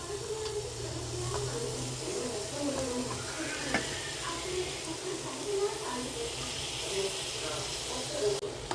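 Prawns simmering in a masala gravy in a pan, a steady low sizzle and bubbling that continues under someone speaking.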